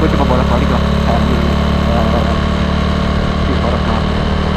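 A Yamaha Aerox 155 scooter fitted with a ROB1 aftermarket exhaust runs close by, its loud, steady engine drone filling the whole stretch with a slight vibrating buzz and no clear rise in revs.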